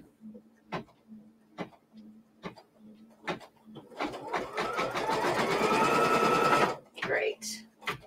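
Embroidery sewing machine stitching a quilt block in a hoop, a loud close mechanical rattle of rapid needle strokes running steadily for nearly three seconds. Soft periodic ticks lead into it and brief clatters follow.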